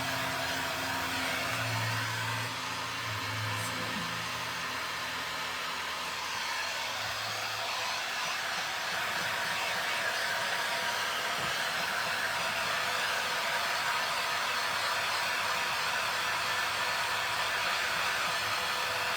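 A handheld heat tool blows hot air over a glittery pumpkin craft, a steady close whooshing hum that runs continuously with little variation.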